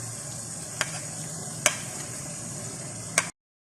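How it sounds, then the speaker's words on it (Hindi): Garlic paste frying with chicken in a pan on high flame, a steady close sizzle with three sharp clinks of a spoon against the pan before it cuts off abruptly. "हाई फ्लेम पे इसे भूनें।"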